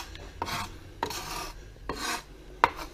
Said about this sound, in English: take your knife, you're just gonna press it against the board, scraping it